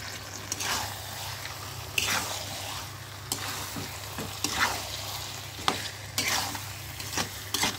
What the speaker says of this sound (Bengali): এভাবে কিছুক্ষণ কষিয়ে নিচ্ছি।